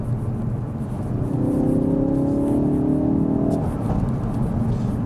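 A Mk3 Ford Focus RS drives on tarmac in poor conditions, its engine note climbing steadily under a constant road rumble, then easing off as the car carries on.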